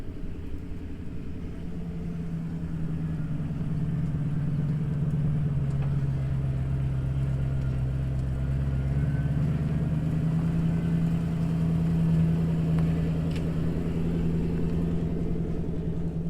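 An old Toyota Supra fitted with an LS1 or LS2 V8 runs at a hillclimb at Mount Panorama, Bathurst, giving a continuous deep rumbling burble, steady and fairly close, with no voices over it.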